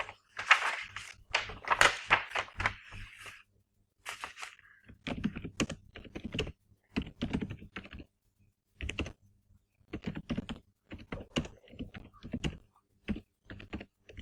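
Computer keyboard typing in uneven bursts of quick, close key clicks separated by short pauses, heard alone throughout while a question is entered on a virtual class conference platform.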